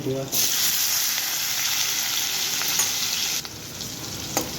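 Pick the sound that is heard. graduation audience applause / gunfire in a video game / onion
onion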